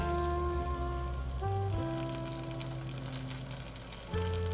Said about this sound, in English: Let's add some oil for frying.